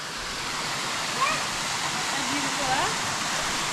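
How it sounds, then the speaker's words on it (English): A pristine waterfall at Parlatuvier, Tobago gives off a steady, even rush of falling water, moderately distant, with faint voices murmuring underneath. "Look at that waterfall now."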